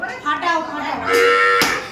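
A cow moos close by during a house-warming puja held at home, a single drawn-out bellow lasting under two seconds that rises and then falls. Faint background noise sits beneath it and there is no clear speech.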